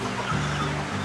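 Backyard hens in Rancagua, Chile, clucking softly and continuously at close range, a low murmuring cackle with no talk over it.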